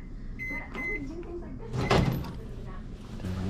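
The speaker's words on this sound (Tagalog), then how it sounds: "Microwave." Short electronic beeps from a microwave oven heating spicy ramen, then a door clunks shut and a low hum carries on while a person talks nearby.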